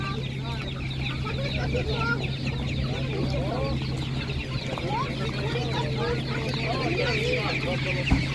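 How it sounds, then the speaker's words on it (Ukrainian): Several laying hens cluck and chatter continuously at close range at an animal market, with a steady low hum underneath and faint voices in the background. "Так, бачите, що курочки є."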